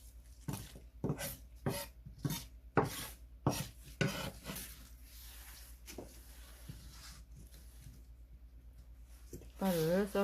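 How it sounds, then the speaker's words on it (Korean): Knife chopping green onions on a cutting board, a quick run of sharp, close taps in uneven bursts with pauses, then a scraping rustle near the end. "쪽파를 썰었어요"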